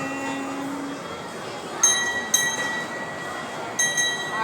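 Kiddie train ride rolling around a shopping mall, a steady low rumble of running wheels with a few sharp squeals or bell-like rings breaking through now and then, with no one speaking.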